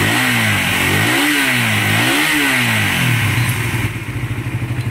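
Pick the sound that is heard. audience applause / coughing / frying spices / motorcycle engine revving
motorcycle engine revving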